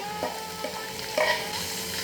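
Chopped onion frying in oil in a pan, with a steady close sizzle and a few stirring scrapes over it, no voices.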